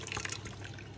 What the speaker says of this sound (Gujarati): હવે આપણે આને આવી રીતના ઝારામાં કાઢી લઈએ